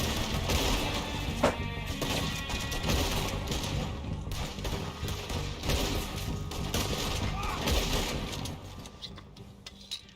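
Gunfire in the Western video game Red Dead Redemption 2, with dense rapid shots and crashes crowding the whole stretch, loud and continuous, with bursts and occasional sharper cracks.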